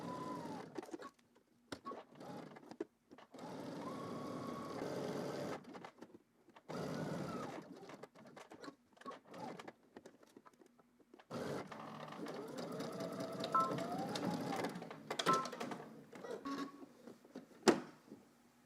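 A sewing machine stitches a seam in bursts, a buzzing whir that starts and stops several times with short pauses between runs, close and moderately loud, with a faint click at the end.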